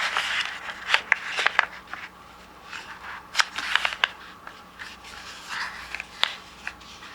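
Paper being folded into a rectangle for origami, with soft crinkles and sharper crisp creasing snaps scattered irregularly, close and fairly quiet.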